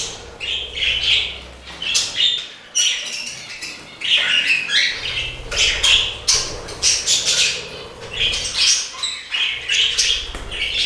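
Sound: budgerigars and finches chirping in bird room

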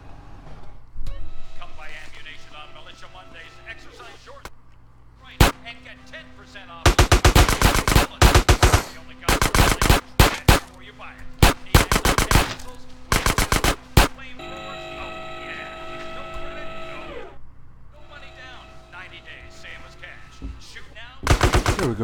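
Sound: gunfire in video game Grand Theft Auto San Andreas

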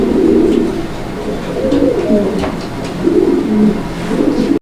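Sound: pigeons cooing

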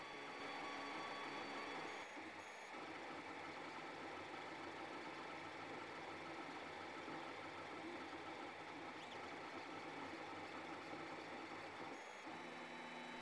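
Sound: Zonestar M8R2 3D printer printing a cuboid

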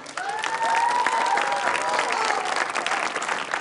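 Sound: audience applause for Bayu Wibowo

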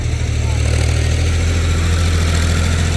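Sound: tractor engine running

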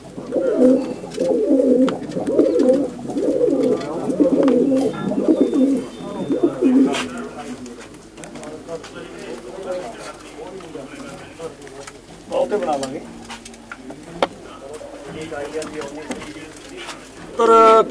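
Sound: pigeons cooing, brought from the coop

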